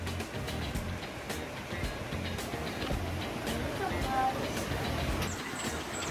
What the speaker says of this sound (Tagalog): malakas pa rin po ang agos ng ilog